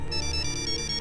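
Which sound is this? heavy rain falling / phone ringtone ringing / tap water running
phone ringtone ringing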